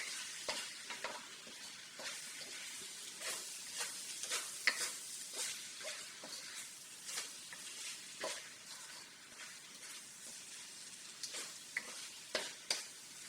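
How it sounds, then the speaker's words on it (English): Meat pie filling with added seasoning being stirred in a pan, a faint hiss of gentle frying broken by repeated soft scraping strokes of a spoon at an uneven pace over a quiet background. "I'm going to stir it for just a minute or two and make sure that all the seasoning that I just put in"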